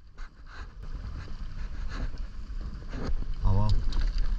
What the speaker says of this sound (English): After hopping back on the boat, we boost over and try and get amongst the action